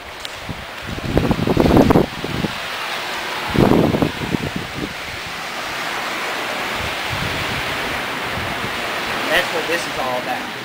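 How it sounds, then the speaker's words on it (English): Gulf of Mexico waves lap along the shore at Manasota Key in Englewood, Florida, a soft continuous wash of surf with someone speaking over the first few seconds. "Listen to the waves slapping up along the shore."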